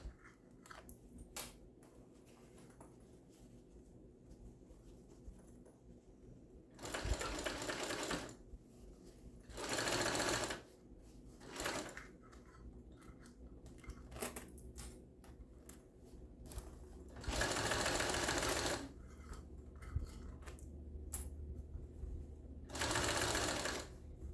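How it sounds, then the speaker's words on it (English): A sewing machine stitches binding onto the first crease of a mini convertible backpack, running in several distinct bursts of steady rapid whirring, separated by quiet pauses with small handling clicks. "we are going to be sewing right on that first crease"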